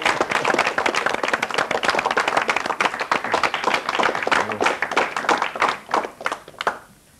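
A studio audience on a Greek television talk show applauds a couple with dense, sustained clapping that holds steady for several seconds before fading out near the end.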